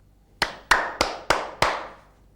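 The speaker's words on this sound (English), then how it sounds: "Clap your hands." Five sharp hand claps in a fairly even rhythm, close and crisp, each followed by a short ringing decay.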